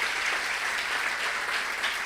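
A church congregation applauds loudly during a Sunday service, a dense, even wash of clapping that continues steadily for about two seconds.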